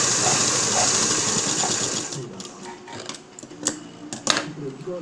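A sewing machine stitches front tucks on a blouse, running in a fast, steady whir for about two seconds, then slowing into a few short bursts and clicks as the fabric is repositioned.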